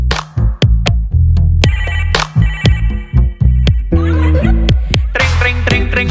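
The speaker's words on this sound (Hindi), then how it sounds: "फोन बजा" A phone ringtone plays loudly, a melodic electronic tune with repeated sharp tonal bursts and bright chiming notes throughout.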